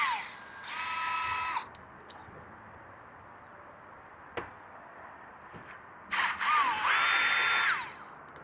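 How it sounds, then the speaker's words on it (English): Power drill backing out Phillips screws on an Axis AW20 or AW26 boat, two separate whirring bursts with a quiet pause between them, close up. "So you're going to take out these 2 Phillips screws."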